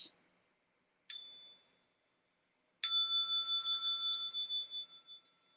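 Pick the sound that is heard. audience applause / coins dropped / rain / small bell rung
small bell rung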